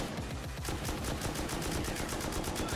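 Black incendiary ammunition is fired in the game Rust as a loud, continuous burst of rapid automatic gunshots with sharp, evenly spaced reports throughout.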